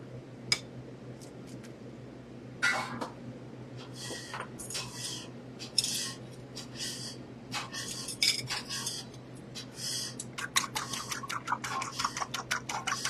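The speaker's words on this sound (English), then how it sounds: "Beat the eggs" Three eggs are beaten with a utensil in a bowl: quiet, quick clinks and taps that start scattered, then settle into a faster, steady rhythm, with no one talking.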